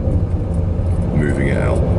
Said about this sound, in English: There I got a car coming up